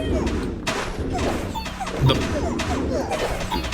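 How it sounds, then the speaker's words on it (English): Trapper explosions in the strategy game 9 Kings pop and thud repeatedly in a dense, busy barrage, overlapping battle impacts layered under continuous game noise. "The Trapper's explosions are doing a ton of work for us right now."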